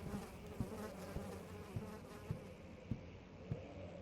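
Buzzing insects in Amnesia: The Dark Descent video game, a steady, droning swarm hum with faint regular pulses throughout, heard alone without talk.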